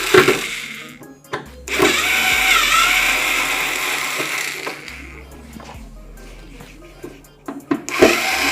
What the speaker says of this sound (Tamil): இதோட ஸ்க்ரூஸை கழட்டிக்கலாம்.